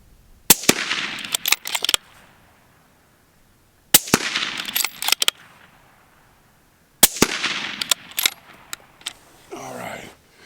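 Three suppressed 5.56 AR rifle shots fired through an Otter Creek Labs Polonium suppressor, each a sharp crack at a few seconds' interval and trailed by fainter echoes and steel-target pings; brief talk follows the last shot.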